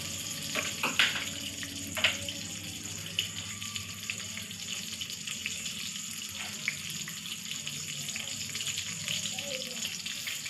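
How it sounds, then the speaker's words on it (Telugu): Green and dried red chillies frying in oil for sambar, a quiet, steady sizzle with sharp ticks and a few stirring knocks in a home kitchen. "కొంచెం వేగిన తర్వాత ఎండుమిర్చి వేసుకోవాలి."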